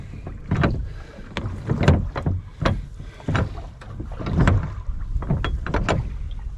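Oars working a small lugger rowed against the tide, with irregular splashes and knocks of the strokes over steady wind and water noise, close and fairly loud, no talking.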